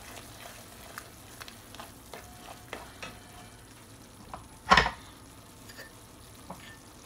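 Pav bhaji masala being stirred into bhaji in a pan, with a soft steady sizzle and light scraping ticks, then one louder clatter of the spoon partway through.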